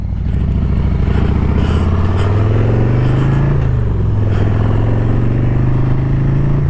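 A 2024 motorcycle with a 117 cubic inch engine rides along, its loud, steady engine drone rising and falling slightly in pitch as it cruises, close and continuous throughout.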